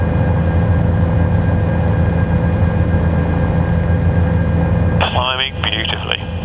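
Bell 407GXi helicopter climbing in flight, a loud steady rotor and turbine drone heard from inside the cabin, with a brief burst of higher-pitched noise near the end.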